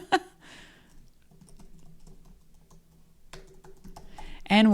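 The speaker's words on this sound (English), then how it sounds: "I'm typing as I'm talking." Typing on a computer keyboard, with light irregular key clicks in short bursts, quiet and close, and a louder noise at the end.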